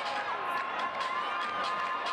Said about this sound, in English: Members from each house filled the stands, cheering on and supporting their new members.